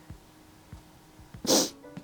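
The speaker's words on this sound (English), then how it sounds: "Sneeze break." A single short, sharp sneeze bursts out close by amid quiet background ticks and rustles.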